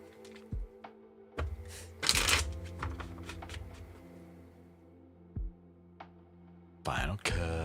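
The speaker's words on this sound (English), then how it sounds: "Final shuffle." Tarot cards shuffled by hand during a live reading, brisk riffling bursts and soft taps over a low hum, spaced irregularly and fairly close.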